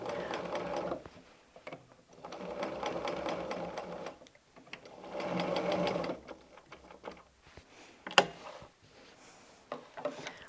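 Sewing machine stitching a patchwork table mat at a coarse stitch setting of 3, running in several bursts of fast mechanical whirring separated by short pauses, with a sharp click near the end.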